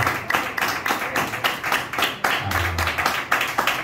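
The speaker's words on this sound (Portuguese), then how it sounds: "as palmas para Jesus" A church congregation claps together for Jesus during a worship service, a steady run of hand claps that fills the room for several seconds with no voices over it.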